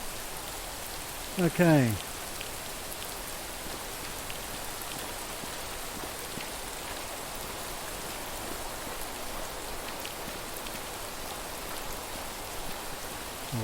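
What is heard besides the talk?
rain in the video game Rising World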